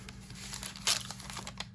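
Soft crinkling of wax paper being handled, a brief rustle with one slightly louder crackle, faint and close.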